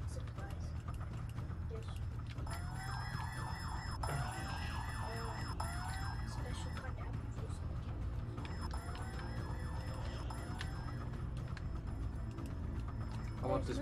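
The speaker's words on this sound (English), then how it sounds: "Seems we have set off the alarm, they're coming." An alarm siren goes off inside a video game, its rising and falling wail repeating in bursts over a low rumbling background at moderate level.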